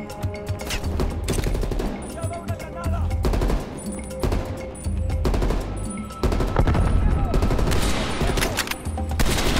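Heavy gunfire in the video game Black Ops Cold War, with dense overlapping bursts of automatic fire and single shots, loud and near, continuing through the whole stretch with short gaps between volleys.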